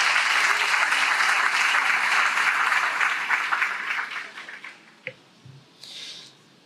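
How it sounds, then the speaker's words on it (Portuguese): A church congregation applauds the preacher at an evening service, dense sustained clapping that fills the room and then thins and fades out toward the end, with a few scattered claps afterward. "Receba o servo de Deus com as palmas nessa noite."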